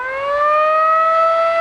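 A fire station alert siren summoning firefighters during a regional heatwave wildfire emergency in Algeria wails steadily and loudly on a single rising then sustained tone, heard alone.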